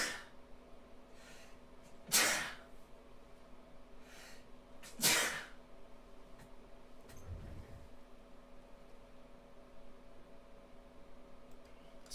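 Two sharp sneezes about three seconds apart, close and fairly loud, over a quiet steady hum, followed by a soft low sniff or snort.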